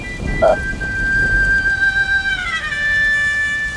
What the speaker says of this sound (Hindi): बिन मौसम बारिश कैसे हो गई?